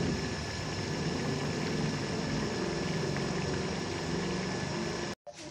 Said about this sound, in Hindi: अब इस दाल को हम पानी खुश्क होने तक पका लेंगे।